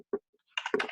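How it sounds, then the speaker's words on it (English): Keys tapped on a computer keyboard during a January 2017 webinar demonstration: two short isolated clicks, then a quick burst of rapid typing, close and fairly loud with no talking. "All I'm doing is typing."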